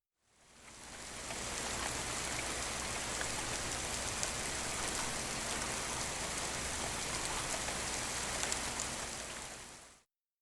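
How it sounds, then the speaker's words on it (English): Heavy rain pours down in a dense, steady hiss of countless drops on surfaces, fading in at the start and holding constant before cutting off abruptly. "The next day it rained so much that no one could leave the ship."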